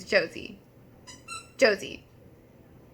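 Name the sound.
dog squeaking her new squeaky toy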